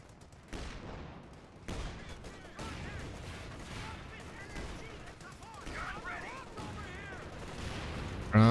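Light machine gun fire in a real-time strategy match, with sustained bursts of automatic shots crackling through a busy battle soundscape, moderately loud and continuous, with a heavier blast near the end.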